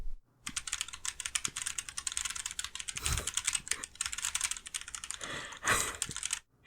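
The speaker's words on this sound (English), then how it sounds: "This is my original keyboard, I guess. So the noisier of them." Rapid, clattering keystrokes on a loud mechanical keyboard, a dense continuous patter with a couple of heavier thumps, close to the microphone.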